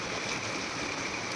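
Cold outdoor water rushes and splashes in a steady, loud, unbroken wash, with no voices over it.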